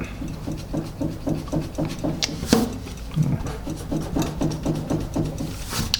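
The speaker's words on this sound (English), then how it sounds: "We can try to do a little erasing here, just for the heck of it." An eraser rubbed over red and blue combination pencil marks on paper, a close rhythmic scrubbing of rapid even back-and-forth strokes that runs steadily with one brief pause and a few small knocks, no voices.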